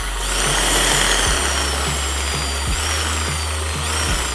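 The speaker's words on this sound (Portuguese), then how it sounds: "Vou colocar na furadeira, vamos tentar furar uma chapinha." Electric drill with a broken bit pressed against thin sheet metal, a steady loud motor whine running continuously with brief dips and surges as it fails to bite, no voices over it.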